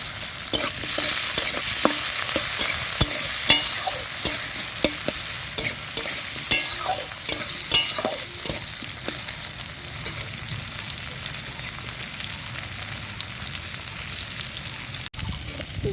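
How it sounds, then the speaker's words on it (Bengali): Frying in a pan with a little salt and turmeric, a loud continuous sizzle punctuated by frequent scraping stirs that thin out toward the end, with no voices. "এইভাবে ভাজতে হবে"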